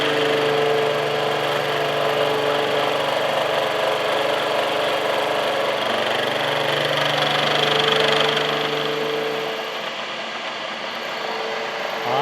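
A metal planer takes a fifty-thousandths cutting pass on a custom tool holder, a loud steady mechanical drone with a grinding hum that holds evenly and then eases slightly near the end, with no voices.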